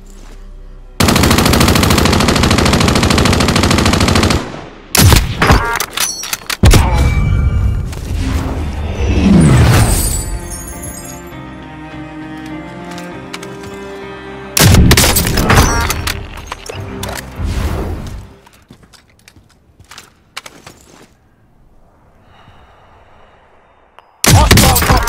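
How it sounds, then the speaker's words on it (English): Explosive bursts and rapid gunfire crash through a Call of Duty match as a Nebula firebomb detonates, several loud, dense blasts separated by short gaps, with a whining sweep and rattling debris between them. "Nebula firebomb detonating."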